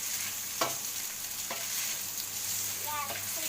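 Pasta stirred in a pan, scraping sounds at a slow irregular pace over a steady background hiss and low hum, with no talking.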